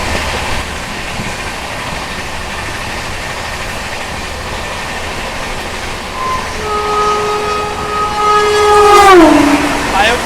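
A Vande Bharat express crosses on Indian rails, a steady roar of passing rolling stock that swells near the end, topped by a sliding horn blast.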